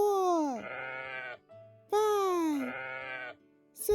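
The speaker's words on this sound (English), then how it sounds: "Count the sheep." Two long, wavering sheep bleats, each sliding down in pitch, are heard close and loud with short quiet gaps between them and no talking over them.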